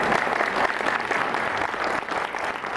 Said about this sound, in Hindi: और तालियां बड़ी चाहिए हमारे सभी कलाकारों के सम्मान में।